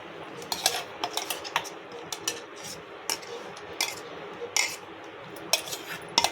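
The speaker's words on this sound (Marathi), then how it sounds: "आपण ते एका भांड्यामध्ये काढून घ्यायचे" Chutney is scooped from a mixer jar into a bowl with a series of sharp, close metal clinks and taps, irregularly spaced, over quiet kitchen background with no speech.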